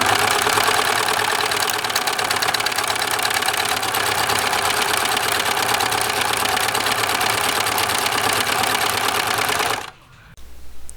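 A serger stitches blue thread through children's pants in a steady, loud, continuous mechanical whir that runs for about ten seconds, then stops abruptly, leaving a quiet room.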